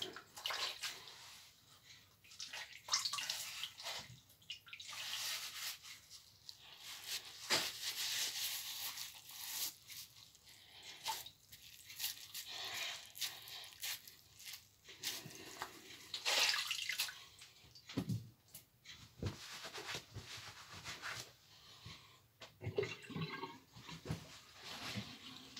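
Water splashes and runs continuously as a shaving brush has its hair wetted, with fairly faint, irregular sloshing and dripping throughout and no speech.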